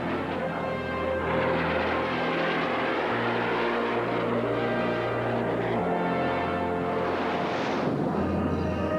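Propeller airplanes perform at an air show during Expo 86, their engines droning loudly and continuously, with a deep, steady hum that shifts in pitch as the planes pass overhead.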